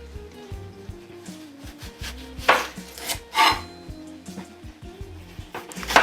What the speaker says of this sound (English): Well, we'll start with cutting the onions.